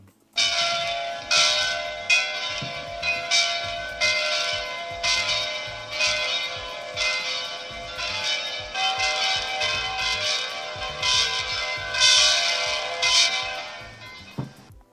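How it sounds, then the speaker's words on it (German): Several different church bells ring together as a homemade sound effect for a Märklin H0 model railway layout, a dense, steady peal of overlapping strikes carrying on loudly throughout with no talking. "unterschiedliche Kirchenglocken."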